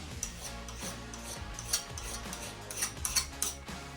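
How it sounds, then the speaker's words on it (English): Short metal-on-metal filing strokes as a burr is taken off the edge of a cast intake part for a 1997 Chevy/GMC 350 5.7L engine, a few scraping rasps over a low steady hum, close and fairly quiet, no talk. "now we'll just take this little burr off of this side"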